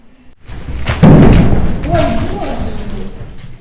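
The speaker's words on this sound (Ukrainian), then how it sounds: "Під час зйомки чутно вибухи." A heavy muffled thud of a wartime explosion in Kharkiv lands after a brief quiet, followed by a lingering low rumble and faint voices in the background.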